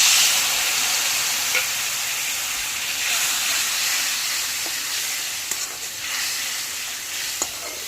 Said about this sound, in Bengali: এখন ভালো করে মশলাগুলি একটু ভেজে নেব।